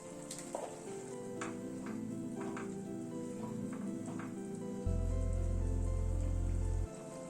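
Matar paneer gravy bubbles in a pan, a soft steady sizzle with scattered light pops and ticks, close and fairly quiet, with a low hum joining partway through; no voices.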